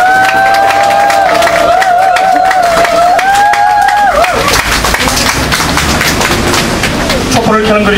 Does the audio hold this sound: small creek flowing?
no